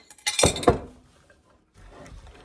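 Blueberries folded into cake mix in a bowl, with a few sharp clinks of a utensil against the bowl up front, then a quieter soft scraping of the batter being turned.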